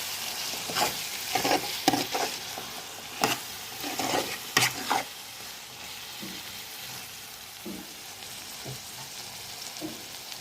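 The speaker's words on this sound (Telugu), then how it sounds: "చక్కగా ములక్కాయ ముక్కలు, టమాటాలు, ఉల్లిపాయలు చక్కగా మగ్గిపోయినాయి." Drumstick pieces, tomatoes and onions fry in a pan with a steady sizzle, broken by several close stirring scrapes early on, then quieter, softer sizzling with occasional light stirs.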